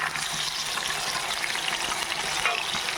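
Tomato dropped into a hot pan for a vegetarian potato curry sets off a loud, dense, continuous frying sizzle, close and steady with no talking.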